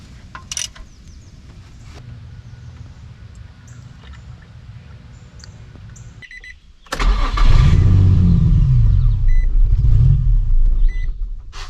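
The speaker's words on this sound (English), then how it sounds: "So we're getting that car firing up and then just kind of dying." A high-mileage Nissan G35 cranks and fires up with a sudden loud surge, runs roughly for a few seconds, then fades and dies; quiet hum precedes the start, with no talking.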